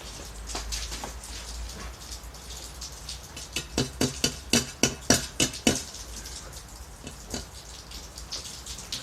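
Proton ISA 220 Smart inverter welder set to minimum current, giving irregular crackling pops and sputtering bursts, with a denser cluster of sharp snaps in the middle of the clip, quite close, with no voices.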